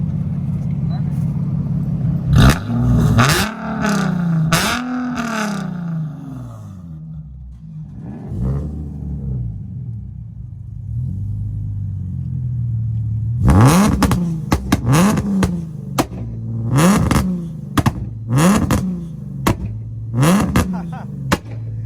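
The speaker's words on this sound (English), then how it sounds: "go ahead, rev it" A Nissan 370Z with a carbon hood revved repeatedly while parked, loud sharp throttle blips in two clusters separated by a lower idle, with people talking nearby.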